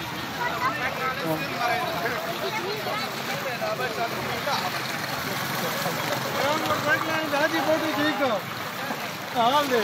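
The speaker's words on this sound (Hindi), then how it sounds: "ये देखें, ये आवाम पानी से गुजर रही है।" Crowds wade through fast-flowing floodwater at a bridge by Band Kurai near Dera Ismail Khan, with a continuous rushing wash of water and people talking throughout.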